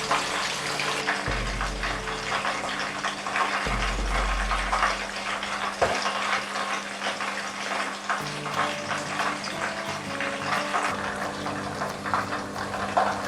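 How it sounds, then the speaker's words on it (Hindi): Chicken frying in a pan, a steady broadband sizzle and crackle running unbroken throughout at close range, with a few low thumps early on and no talk. "अबाउट 10 मिनट हो गए हैं चिकन को फ्राई होते हुए"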